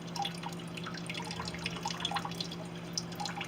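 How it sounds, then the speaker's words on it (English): Water drips slowly and steadily from a small aquarium filter outlet, a continuous close wet trickle with soft irregular plinks, no voices. "now it's slowing down, and then you can get it to like where it's just dripping."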